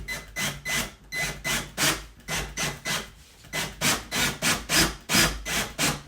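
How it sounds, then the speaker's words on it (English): Rhythmic rasping, grinding strokes against wood, about a dozen in steady succession, close and fairly loud, as screws are driven by hand into pre-drilled holes to fit a used brush along the bottom of a door. "now I'm putting the screws."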